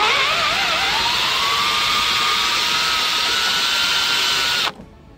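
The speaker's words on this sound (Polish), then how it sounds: "Postanowiłem tylko wymienić te szyny, a więc trzeba rozwiertać nity." Power drill boring out the rivets on a VW Polo 9N car window regulator, a loud, steady metallic whine with a pitch that wavers and then rises before cutting off abruptly near the end, heard alone.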